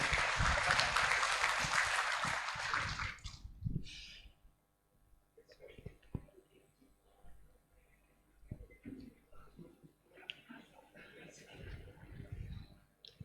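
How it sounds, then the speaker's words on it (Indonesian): Audience applause at a PKB party inauguration ceremony for the South Kalimantan provincial board, a burst of clapping that fades out after a few seconds, followed by quieter room sounds and a voice speaking. "boleh kami minta tepuk tangan lagi sekali lagi kepada Bapak Ibu"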